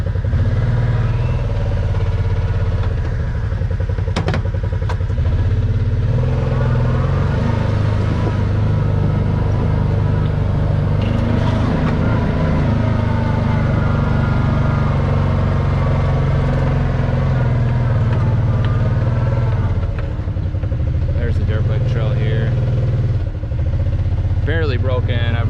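A vehicle climbing an off-camber side hill on a 40-acre homestead makes a loud engine rumble close by that rises and falls with throttle changes, with some clatter and a voice speaking over it.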